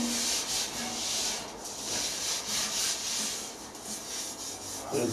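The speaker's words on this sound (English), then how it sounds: "A little bit more rub out with a floppy wheel and it'll be good to go up." Flap disc on a grinder rubbing down a steel weld on a fire pit build, a steady rasping grind that swells and eases in strokes, fairly close, with no talk over it.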